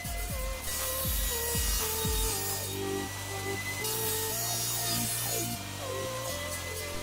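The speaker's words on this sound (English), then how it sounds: "Now I can miter each end of my top and bottom shelf to a 45 degree angle." A power saw miters the ends of a wooden floating shelf to 45 degrees, with a few short cutting bursts and then a sustained whining motor hum with shifting tone, close and loud, no talk.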